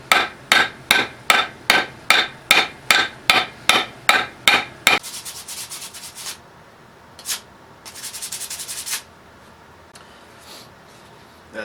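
Hand sanding with 220 grit sandpaper on a vintage Plumb axe: a run of about twelve quick, evenly spaced rasping strokes, close and loud, then slower, scattered rubbing and a longer scrubbing burst.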